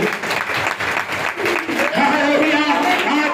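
A church congregation claps for God, rhythmic group applause mixed with voices, growing fuller and louder partway through as people cheer over it.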